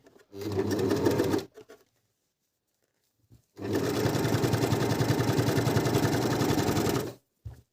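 Merrylock 3000cl overlocker sewing a four-thread seam, running in two loud, steady whirring bursts, a short one and then a longer one, with silence between.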